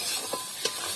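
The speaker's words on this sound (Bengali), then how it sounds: "এগুলো দিয়ে মশলাটাকে ভালো করে কষিয়ে নেবো।" Spice masala with chili, coriander, cumin and garam masala powders stirred and fried in a pan for aloo matar curry, making a close sizzle with two quick scraping stirs and no talk.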